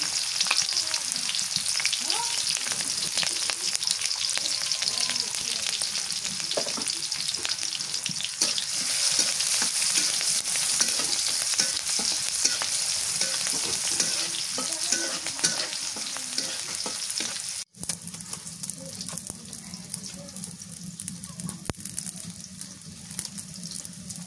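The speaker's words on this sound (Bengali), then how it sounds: "মরিচ রসুন ভাজা হয়ে গেছে" Green chilies and garlic frying in a pan while cooking poi shak, a loud and steady sizzle with scraping stir strokes, then the sizzle drops to a quieter, lower hiss after a brief break near the end.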